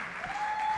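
An audience at a college fall orientation convocation and concert applauds steadily, a dense wash of clapping heard briefly and at moderate level.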